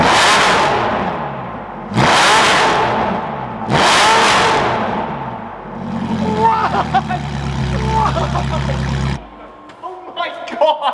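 A Lamborghini Revuelto engine revs hard three times in a row, each sharp loud roar decaying quickly, then settles into a rough rumbling idle before cutting off near the end; loud and close.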